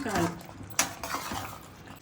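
A spoon stirring gongura chicken curry in a metal pan, with soft scrapes and one sharp clink, under a person talking.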